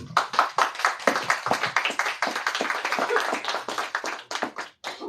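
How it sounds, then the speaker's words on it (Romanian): A small audience at a book launch and metal sculpture exhibition in a bookshop claps for the author Cristina, a brisk patter of a few distinct hands that breaks off briefly near the end. "aplaudați-o că merită"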